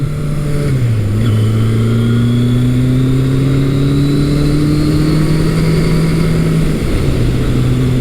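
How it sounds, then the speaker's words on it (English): Kawasaki KZ1000 motorcycle with its 1000cc engine and stock exhaust, holding a steady loud drone that climbs gradually with a whiny, jet-like tone and dips briefly twice as it shifts, recorded from on the bike. "It's got that jet engine sound from the big 1000cc KZ1000 motor."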